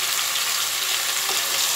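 Vegetables for a Bengali labra curry tipped into hot oil with tempering spices, giving a dense, steady hiss of frying close by, with no voices.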